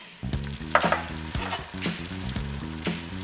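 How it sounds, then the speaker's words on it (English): Three tablespoons of Caribbean-style curry powder fry in hot oil in a pot, a close, constant sizzle broken by rhythmic scraping strokes of a spoon stirring it. "Next, I'm going to add our 3 tablespoons of Caribbean style curry powder."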